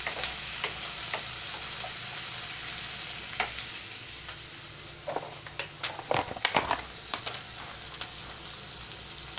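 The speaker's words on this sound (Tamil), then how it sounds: "வெங்காயத்தில் லேசாக உப்பு தூள் தூவுங்க. சட்டுன்னு வதங்குபடும்." Salted onions sautéing in a pan for a Tamil lunch dish: a continuous soft sizzle with scattered stirring clicks and a cluster of sharper scrapes in the latter half, no talking.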